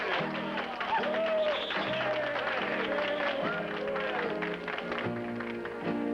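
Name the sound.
audience applause for Webb Pierce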